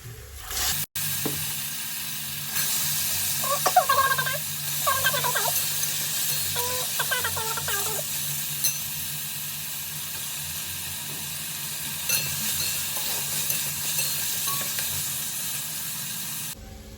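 Potatoes fry in a pan for sabudana khichdi, a steady close hiss and sizzle running throughout, with bursts of scraping and stirring in the middle and a brief clatter near the start.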